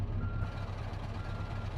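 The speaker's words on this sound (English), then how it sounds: "Let's get it out of reverse so it stops beeping at me." A steady low engine rumble of a large truck in a driving video game, with reversing beeping blended into the continuous drone.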